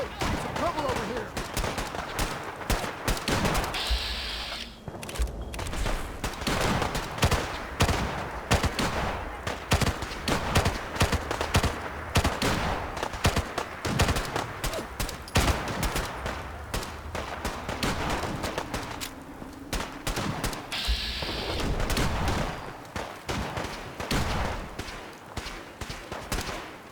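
Dense, sustained gunfire from a crowd of Gunner enemies in Fallout 4, with rapid bursts and repeated shots crackling continuously and loudly, voices talking over parts of the firefight.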